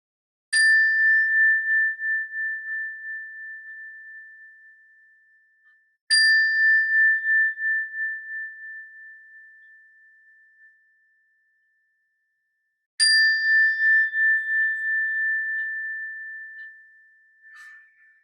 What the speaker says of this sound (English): when you hear the sound of the bell, try and listen to the bell until you can't hear it any longer